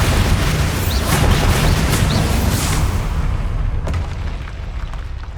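Confringo and Bombarda spell explosions in the video game Hogwarts Legacy, a dense run of loud booming blasts and crackling bursts that continues without a break, then eases somewhat toward the end.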